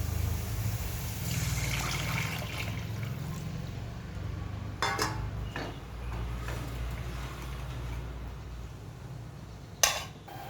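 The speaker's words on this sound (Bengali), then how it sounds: "এবার আমি জল দিয়ে দেব।" Water is poured into fried chicken kofta curry masala in a pan, a soft continuous trickle and splash under low background hiss, ending with a louder clatter near the end.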